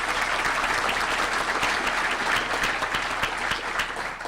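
Audience at a State of the Region gathering gives steady, dense applause, many hands clapping at close range before it thins slightly toward the end.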